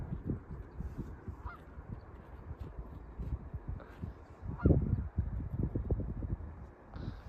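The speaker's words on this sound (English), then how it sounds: "And there's some geese over there." Geese honk at a distance by a river in Oregon, a few scattered calls over a low outdoor rumble, with one louder burst near the end.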